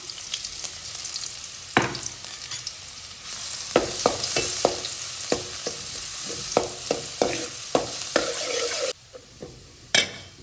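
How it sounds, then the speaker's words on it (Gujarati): Garlic fries in oil in a pan, a steady sizzle punctuated by repeated sharp scrapes and taps of a stirring spoon, close and loud with no talking. "તો લસણ છે એને તળી લઈએ પહેલાં"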